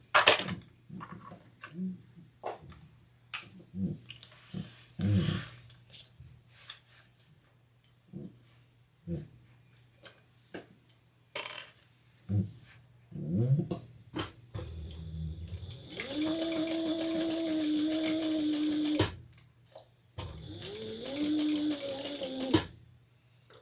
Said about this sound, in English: then we're going to sew that together with a different seam allowance